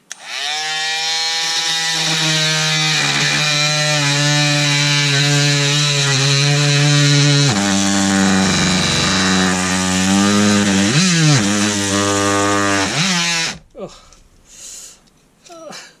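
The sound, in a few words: cordless multitool blade sawing through wood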